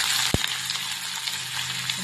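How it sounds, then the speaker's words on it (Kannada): Onions hit hot oil in a pan, with a sharp knock near the start followed by a steady, close crackling sizzle. Faint stirring sounds run underneath. "ಫಸ್ಟ್ ಈರುಳ್ಳಿನ ಫ್ರೈ ಮಾಡ್ಕೊಳ್ಳೋಣ."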